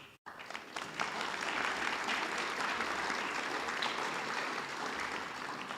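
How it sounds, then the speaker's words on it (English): Sustained applause from a crowd honouring graduates at a school district online academy graduation ceremony, steady dense clapping that starts after a brief gap and holds at an even level throughout, heard from a distance. "giving them yet one more round of applause"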